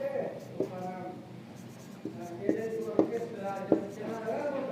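Writing during a classroom lesson on enzymes, faint scratchy strokes and taps heard under a teacher's continuous talking.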